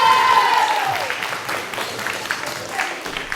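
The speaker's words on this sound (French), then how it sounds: "Faites un applaudissement pour Arsène" Audience applause at a school slam poetry session greets a performer named Arsène, a dense, steady clatter of many hands that fades slightly toward the end, with a brief tonal sweep at the start.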